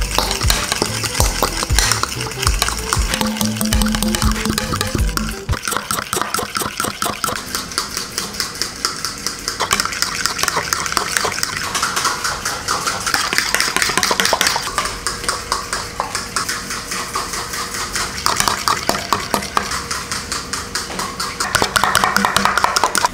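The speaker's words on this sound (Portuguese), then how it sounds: "Você pega o potinho e vai jogando o azeite e vai mexendo." Olive oil is stirred into homemade mayonnaise in a small pot, a steady fast scraping and clinking of a utensil against the pot that runs the whole time beneath a person talking.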